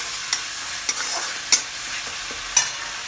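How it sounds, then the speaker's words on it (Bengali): Spices and onions fry in a pan for a Bengali chicken curry, a steady sizzle broken by several sharp scraping strokes of a spoon stirring, close and without talk. "দেখুন আমার হয়ে এসছে মশলা ভাজাটা, পেঁয়াজের সাথে মশলাগুলো মিশে গেছে।"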